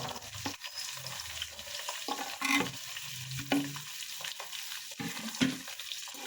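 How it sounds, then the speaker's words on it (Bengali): Beans and carrots being stir-fried in a pan, with a steady sizzle broken by repeated scraping strokes of a spatula stirring the vegetables, close up and moderately loud, with no talking. "বিনস গাজর দিয়ে একটু ভালো করে দুটোকে ভাজা ভাজা করে দেবো।"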